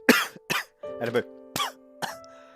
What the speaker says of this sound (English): Where'd a cough suddenly come from?